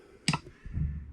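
Keys clack on a keyboard under test, one sharp bright click followed by a softer thud, close and fairly quiet.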